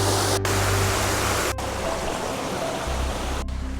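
Waterfall splashing over rocks beside a mountain trail in rural Japan, a steady broadband rush that fills the clip at close range, with a couple of brief dropouts.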